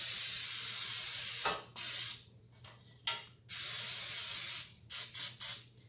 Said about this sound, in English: We are going to spray them a lot with our Easy Stick Spray